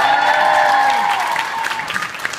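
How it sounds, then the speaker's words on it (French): Applause from an audience fades out, with a steady tone held through the first part and scattered claps continuing. "on peut applaudir Cadmerad"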